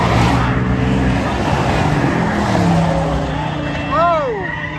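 An Ultima and a Mustang launching off the line at a spectator drag race, engines roaring loud and close with a rising revving pass near the end, people talking over it.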